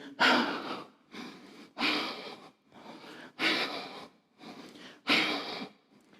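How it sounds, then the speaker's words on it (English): Heavy, rhythmic breathing after kettlebell swings: deep loud inhales and exhales alternating steadily, about six breaths, very close to the listener. "And then I start breathing heavy."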